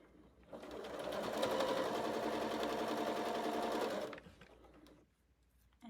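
A sewing machine stitching sashing onto quilt blocks runs in one steady, fast whirring burst of about three seconds, starting and stopping cleanly, with no talk.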